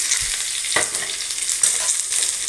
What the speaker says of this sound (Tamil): கருவேப்பிலை போட்டுக்கலாம் எண்ணெயில். வெங்காயம் போட்டுக்கலாம்